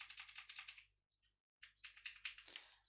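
Fast keystrokes on a computer keyboard while typing R ggplot code, in two close, crisp bursts split by a short silent pause, with no voices.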